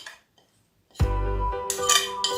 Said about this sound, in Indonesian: Kita aduk rata mie dengan sayuran yang telah kita sediakan.